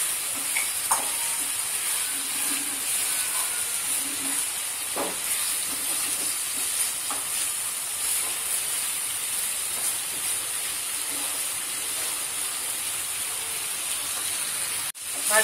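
Teasel gourd bhaji, seasoned with salt and a little turmeric, fries uncovered in a pan with a constant steamy hiss and a few scattered soft stirring scrapes.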